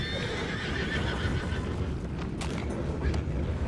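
A horse whinnies amid steady low rumbling ambience in Red Dead Redemption 2, loud and close, with no talking.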